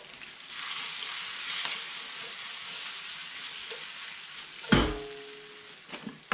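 Tomatoes frying with garlic in a pan for an anchovy pasta sauce, giving a steady moderate sizzle that runs throughout, with a short louder clatter near the end.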